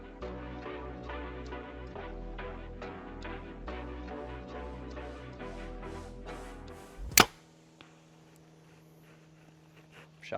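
An arrow shot from a bow strikes a 3D deer target: one sharp, loud thwack cuts in right as steady background music drops away, followed by near silence.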